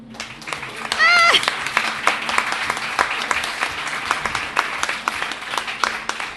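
Applause from an audience at a book presentation during the 2018 book fair: dense, steady clapping from a seated crowd filling the room, with a brief whistle-like tone near the start and faint voices underneath.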